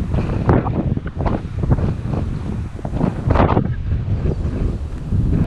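Strong headwind buffets the microphone while cycling in Lincolnshire, a steady loud roar with gusts that swell and fade throughout, no voices over it.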